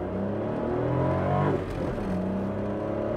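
An old Daewoo Matiz with a 48 hp engine driving, its engine droning steadily with a slight rise and fall in pitch from inside the car, with no voices.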